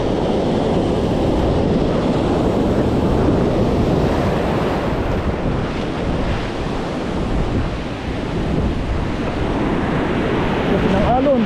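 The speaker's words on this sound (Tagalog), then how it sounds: "Laki ng alon." Heavy ocean surf roars continuously at Casiguran, Aurora, big waves crashing and washing close by, with wind buffeting the microphone throughout.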